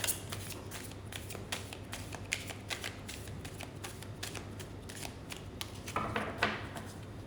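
A deck of cards shuffled for a reading, a quiet close run of rapid riffling flicks and soft snaps repeating over several seconds, with no voices.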